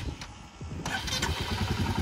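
A Royal Enfield motorcycle engine cranks and catches, then settles into a loud, rumbling idle close by.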